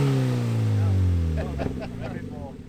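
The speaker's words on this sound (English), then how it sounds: "Yeah, rev it right up." A Mazda MX-5 engine revs loudly against the brake, its pitch sliding as the revs shift, then settles into a rougher rumble while someone talks over it.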